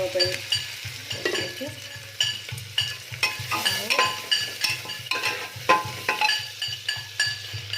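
Onions frying in oil in a pan with garlic, ginger, peas and potatoes: a steady loud sizzle with repeated scraping stirs and clinks of a spoon against the pan, close up, with no talking.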